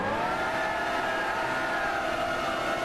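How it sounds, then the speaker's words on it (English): Car tyres spinning in a burnout in Gran Turismo 6, a steady loud engine drone and tyre screech held at a constant pitch throughout, with no pauses. "I will test the burnout"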